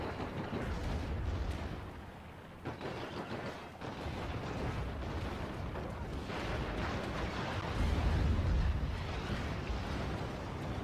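Super Hind helicopters launch rocket salvos in the real-time strategy game Act of Aggression, a dense, continuous rumble of blasts and explosions that keeps going without a break across the battlefield.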